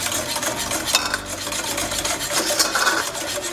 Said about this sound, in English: we're gonna add in 1/4 cup of milk and whisk really fast